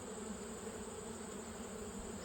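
Honey bees buzz at a hive while a colony is prepared for winter, a soft, steady, continuous drone with no breaks.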